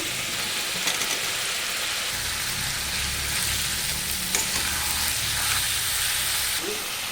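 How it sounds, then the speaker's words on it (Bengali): Potatoes sizzle steadily in a hot pan for chicken biryani, with broadband hiss, occasional stirring scrapes and a faint low rumble beneath. "দেখুন প্রথমে আলুটা ভেজে নিচ্ছি"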